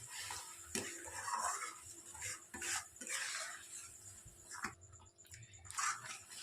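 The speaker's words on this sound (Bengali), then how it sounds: "এইবারে একটু নাড়াচাড়া করি।" A spoon stirs homemade tomato sauce with tamarind pulp in a pot, scraping and knocking against the metal in irregular, close strokes, with a faint sizzle underneath.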